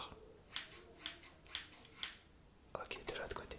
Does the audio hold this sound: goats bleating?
no